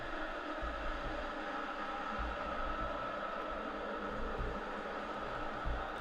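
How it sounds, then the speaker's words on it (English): Sevilla football fans in a stadium at a Europa League final, a steady distant roar of crowd noise with a continuous broad wash and no distinct chants. "the only people you can hear are the Sevilla fans."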